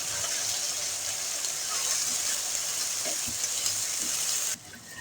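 Fresh peas being stirred into a sizzling fried masala of yogurt and spices for spicy aloo matar pulao, a steady close sizzle with scraping stirs that drops off abruptly near the end.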